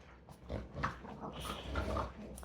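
A dog growls and grumbles in low, rough bursts, faint and close, with no one talking.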